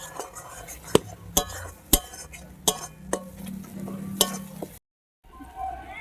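Catfish with spices, cooked meat-style with potatoes, stirred and sautéed in a pan: sharp spoon scrapes and clinks against the pan at irregular intervals over a low steady sizzle, close and fairly loud, with a brief silent gap near the end.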